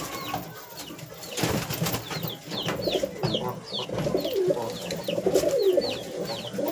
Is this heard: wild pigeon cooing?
yes